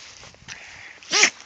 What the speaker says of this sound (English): He's a real good dog.